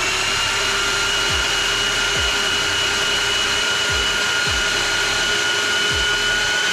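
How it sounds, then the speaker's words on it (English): A starter cranks an engine fitted with a freshly installed E153 transmission, giving several short, loud cranking bursts spaced a second or so apart over a steady, loud mechanical whine, with a brief spoken word. "So I'm just gonna cross the wires here and get this thing cranking."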